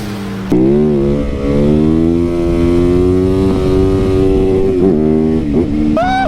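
A sport motorcycle starts off and rides, its engine droning loud and close at a fairly steady pitch with gear-change dips, then revving up at the end.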